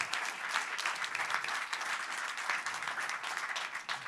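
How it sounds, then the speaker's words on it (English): Audience applause at a business plan competition, a dense, sustained wash of many hands clapping throughout, fairly distant and even in level. "let's give God one more round of applause before we go through this"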